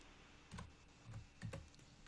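Computer keyboard being typed on, a few quick clusters of soft clicking keystrokes, close and fairly quiet, with no talking.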